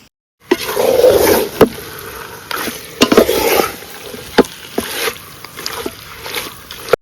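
Malvani masala gravy cooks in a pan after water is poured in, giving a bubbling sizzle broken by sharp knocks and stirring clatter, close and fairly loud, with pauses between bursts.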